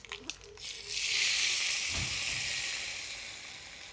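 Cumin and mustard seeds are tipped into hot oil as a tempering for uttapam. After a few faint clicks, a bright, close sizzle surges up and holds steady, easing off a little toward the end.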